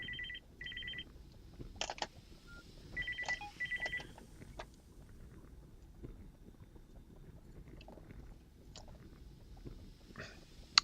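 A mobile phone ringing in short repeated bursts, several quick tonal pulses near the start and around the four-second mark, over a steady low background hum, with no talk.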